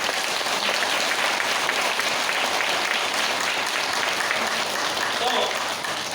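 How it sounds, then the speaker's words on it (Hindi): An audience at a product training session claps loudly and continuously, a dense wash of applause that holds steady throughout. "एक बार ताली बजा दीजिए जोरदार"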